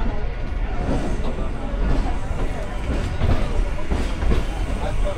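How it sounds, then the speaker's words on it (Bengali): A Hasnabad local train pulls out of Sealdah station with a continuous rumble, a rolling clatter of wheels and the sound of the carriage, close and steady. "শিয়ালদা থেকে ট্রেন ছাড়লো"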